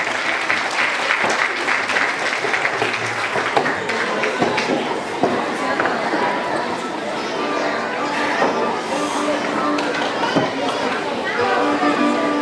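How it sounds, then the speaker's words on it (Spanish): Crowd applause for an elderly men's viejitos dance troupe from Jarácuaro at an outdoor town fair in Charapan, steady dense clapping throughout with background chatter and voices mixed in. "Los aplausos, por favor, para esta danza de viejitos"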